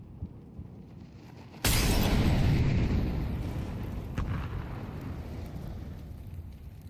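A flashbang grenade goes off in a competitive Counter-Strike match: one sudden loud burst that rings out and slowly fades over background game noise, followed a few seconds later by a faint sharp pop.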